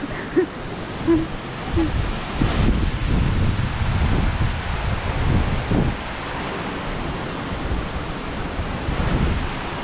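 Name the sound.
strong typhoon wind (Typhoon Ulysses)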